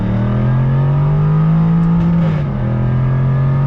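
A 2021 Jaguar F-Type R sports car engine holds a steady, loud rev that dips briefly and settles back into a strong, sustained drone, close to the listener with no talking.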